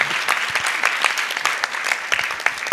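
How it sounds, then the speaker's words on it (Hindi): Audience applause at a Jain religious gathering announcing a monk's chaturmas, a steady burst of many hands clapping close by, filling the moment without voices on top. "तालियां तालियां तालियां"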